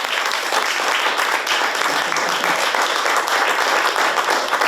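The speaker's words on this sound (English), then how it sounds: "Ladies and gentlemen, I think she deserves a huge round of applause." Applause from a workshop audience at a film festival event, dense and steady clapping that holds loud and even throughout with no break and no voices over it.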